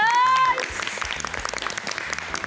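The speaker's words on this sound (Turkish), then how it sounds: "Alkış!" Studio audience applause on a Turkish television cooking competition, a loud burst of clapping that rises quickly and carries steadily on with a faint tone at the start.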